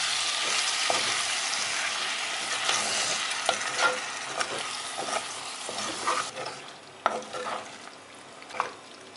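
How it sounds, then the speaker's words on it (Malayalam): Squid roast with tomato and salt stirred in a frying pan: steady sizzling with scraping strokes and soft clinks of a spoon against the pan, growing quieter toward the end. "നമുക്കിതിലേക്ക് തക്കാളിയും ആവശ്യത്തിനുള്ള ഉപ്പും കൂടെ ചേർക്കാം. നമുക്കിത് നന്നായി യോജിപ്പിക്കാം."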